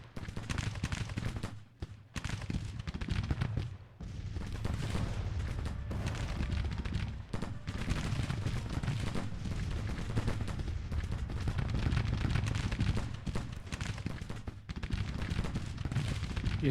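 Gunfire in Grand Tactician: The Civil War, dense and continuous musket volleys and booming artillery at a distance, crackling steadily with brief lulls and no speech.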